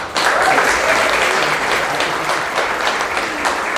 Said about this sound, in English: And so really excited to welcome and to have a big round of applause for Commissioner Amy Kershaw.